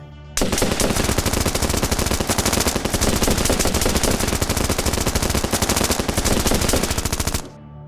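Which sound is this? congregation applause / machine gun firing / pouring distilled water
machine gun firing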